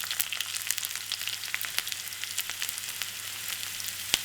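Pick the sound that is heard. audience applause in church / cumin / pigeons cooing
cumin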